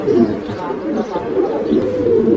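Desi pigeons coo close by in a loft of fancy breeds, giving soft, throaty, repeated calls that run on without a break.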